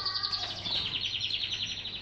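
White and pink canaries chirp in a steady stream of high, bright calls, fairly close, with no talking.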